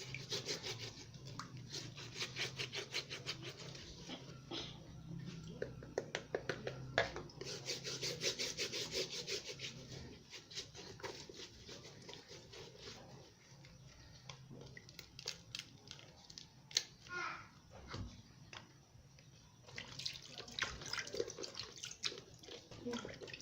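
Raw meat for Nigerian party stew being rubbed and washed by hand in water, with steady wet rubbing, dripping and splashing close by, continuing without pause throughout.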